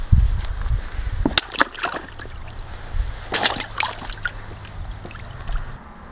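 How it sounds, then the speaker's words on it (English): Boots tread and slosh through shallow outdoor water, with a few sharp splashing steps standing out over a constant watery rumble, close and fairly loud. "Let's step in the water again."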